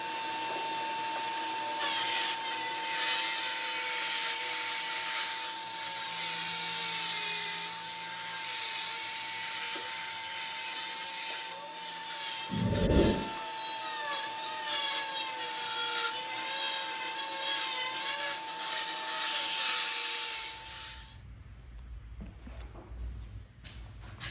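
A power tool grinds steadily through the bulkhead of a Kawasaki X2 jet ski hull, a loud, continuous high whine lasting about twenty seconds before stopping, with a brief low thump midway and rougher noise at the end.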